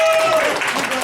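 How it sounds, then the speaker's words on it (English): Audience applause at a high school honor society induction ceremony, a short burst of clapping that rises after a brief tone and fills the room. "Guys, clap for him."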